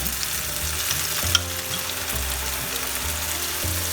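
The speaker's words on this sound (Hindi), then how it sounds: "ये जो दही में मसाला डाल के रखा है हमने, ये डाल देते हैं।" A yogurt and spice mixture poured into a hot pan of sautéed tomatoes for methi chicken, giving a steady close crackling sizzle with a low hum beneath it and no talking.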